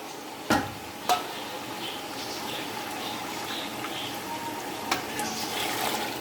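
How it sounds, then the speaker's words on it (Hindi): Boiled-beef yakhni broth poured into a pot of fried beef while making beef pulao, a steady wash of liquid with faint sizzling and stirring and two sharp clinks near the start. "जो जिसमें गोश्त हमने उबाला है वो यखनी हम डालेंगे"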